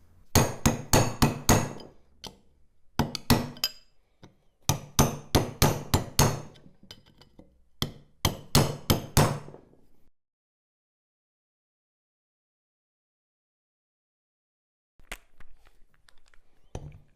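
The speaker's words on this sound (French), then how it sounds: "Je vais donc aplatir ceci avec un marteau et un burin afin de pouvoir desserrer les écrous" Hammer driving a chisel to flatten a lock washer during café racer motorcycle wheel removal: rapid bursts of sharp metallic strikes in quick series for about ten seconds, silence, then a last short flurry of taps.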